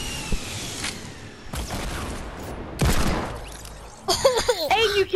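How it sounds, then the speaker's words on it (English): Gunfire in a Roblox video game, bursts of rapid shots coming in separate loud clusters with short gaps between them, followed by a stretch of excited speech. "Whoa, who's shooting at me?"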